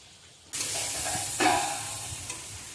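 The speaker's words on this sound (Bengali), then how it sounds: "এরপর চিংড়িটাও ভাজা হচ্ছে।" Prawns, then potatoes and banana, frying in hot oil in a home kitchen. A steady loud sizzle bursts in suddenly and continues, swelling again as more food is stirred in, with no talking.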